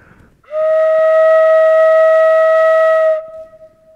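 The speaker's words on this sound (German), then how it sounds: "zum Klingen bringt man die Pfeifen, indem man mit dem Mund hineinbläst und da kann man wunderschöne Töne erzeugen" A MeloPipe pipe blown by mouth sounds one clear, loud, steady tone for about two and a half seconds, starting abruptly and fading with a short tail.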